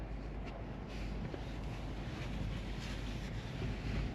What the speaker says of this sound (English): still windy, and the wind is just nice